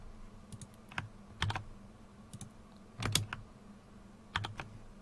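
Keystrokes clicking on a computer keyboard in short bursts with gaps between them, close and fairly quiet, no voices.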